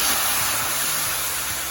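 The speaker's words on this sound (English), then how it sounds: "So now I'm gonna place my chicken straight in there." Chicken pieces drop into hot caramelized sugar in an oil-free pot for curry stew chicken, raising a loud, steady hiss of steam and sizzling with no speech.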